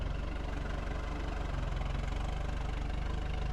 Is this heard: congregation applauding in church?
no